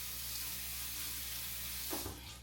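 Tap water runs steadily into a kitchen sink while something is rinsed under it during pico de gallo prep, a continuous hiss with a brief splashy change near the end.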